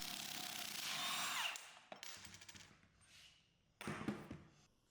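Large center nut on a 2024+ Ford Ranger driveshaft being removed with a power tool: a loud rattling impact-gun burst, then softer clanks and thuds, and another short rattling burst near the end.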